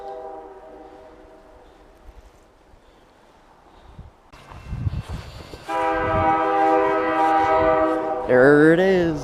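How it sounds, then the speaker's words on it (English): A passing train starts as a faint rumble, then swells into a loud, sustained blast of its horn with rattling wheels underneath, ending in a wavering horn call close by. "is that another train?"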